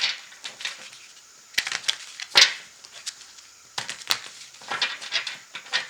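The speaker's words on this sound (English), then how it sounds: "Two more shuffles." Tarot cards are shuffled close up in quick papery riffles and flicks, a few clustered bursts with brief pauses between them, no voice over the top.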